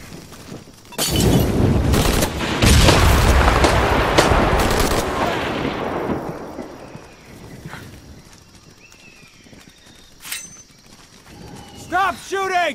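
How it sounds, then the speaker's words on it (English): Gunfire in Shadow of the Tomb Raider, a loud flurry of sharp shots and impacts for several seconds that fades into quieter debris and ambience, with a couple of isolated cracks later and a voice at the end. "Stop shooting."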